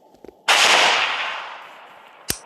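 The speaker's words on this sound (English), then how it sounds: "let's throw more rocket launcher" A rocket launcher fires in the video game Melon Playground, a sudden loud blast that roars and slowly fades over two seconds, followed by a couple of sharp clicks.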